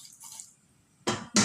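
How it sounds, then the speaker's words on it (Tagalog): Water is poured into a pot of vinegar while cooking paksiw. After a near-silent stretch come two short, splashy pouring bursts, close and fairly soft. "At lagyan natin konti ng tubig"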